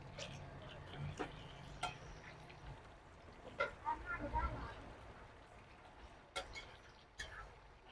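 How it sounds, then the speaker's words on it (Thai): Deli fish frying in a pan for a Thai made-to-order dish, a faint crackle with light scattered ticks and clinks of cooking utensils, while someone talks over it. "ทอดปลาก่อนเลยครับ ทอดปลานี่จะเป็นปลาเดอรี่นะซื้อมาได้เลย ทอดให้เหลืองให้สุกก่อน"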